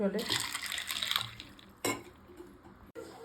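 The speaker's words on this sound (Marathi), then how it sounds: "आता हे आपल्याला भिजत टाकायचे. स्वच्छ धुवून घेते मी हे" Chickpeas are swished and rinsed in water in a kitchen bowl, with splashing and sloshing, a few hard clinks against the vessel and a sharp knock near the end, fairly quiet overall.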